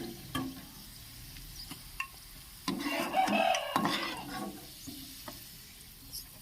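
Chopped onions frying in hot oil for a flat-bean masala gravy, a steady close sizzle broken by scraping stirs and a louder burst of crackling midway.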